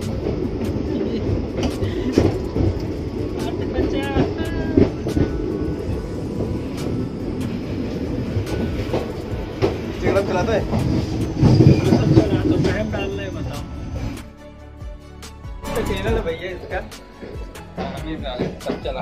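A train at Katni junction at night rumbles and clatters nearby while station noise fills the platform, with short sharp clicks and a quieter stretch near the end.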